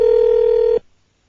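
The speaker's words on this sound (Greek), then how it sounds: "Εγώ λέω να τον πάρουμε ξαφνικό τηλέφωνο." A telephone handset gives out a single loud, steady electronic tone while a number is called, holding evenly for under a second and then cutting off abruptly into silence.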